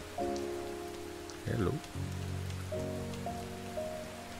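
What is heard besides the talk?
rain in a video game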